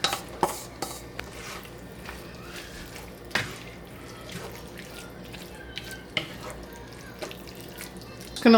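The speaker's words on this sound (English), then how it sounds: "I'll run the hot water over them" Hot tap water runs over vegetables in a kitchen strainer as a continuous faucet wash, with scattered clinks and knocks on top.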